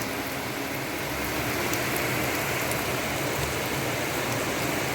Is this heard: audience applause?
no